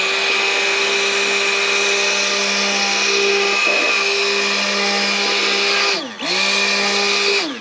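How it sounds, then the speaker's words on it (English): An immersion blender mixing cold-process soap hums steadily at close range with a high whine, briefly dipping in pitch near the end before resuming. "Then I take my immersion blender"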